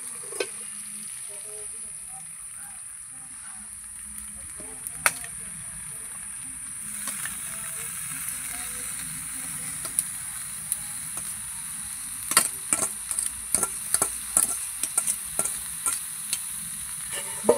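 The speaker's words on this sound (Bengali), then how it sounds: "এবার এর মধ্যে আমি বাঁধাকপিটা দিয়ে দেবো।" Cabbage tossed into spiced potatoes in a hot pan, sizzling steadily with a soft continuous crackle and a cluster of sharper stirring clatters toward the end.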